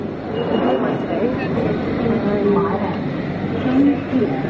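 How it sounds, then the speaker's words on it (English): A London Underground station gives off a low, rumbling ambience, with the murmur of train and platform noise under nearby people talking throughout. "I'm in the underground right now, and I'm about to take the train to Brighton."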